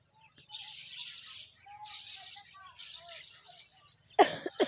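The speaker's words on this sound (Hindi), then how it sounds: "ये देखें परिंदे बैठे हुए उड़ रहे हैं परिंदे।" Birds chirping outdoors in a village, several bursts of fairly faint twittering calls in quiet surroundings, ending with a person's sharp cough close by.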